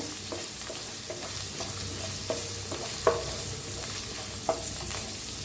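Crushed garlic and asafoetida roast in oil with a soft, steady sizzle, broken by a few light clicks of stirring.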